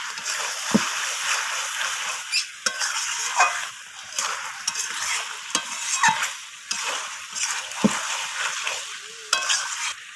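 Squash frying with chicken curry in a pan, making a loud, continuous sizzle with repeated scraping and clattering strokes of a spatula as the mixture is stirred, and no voices.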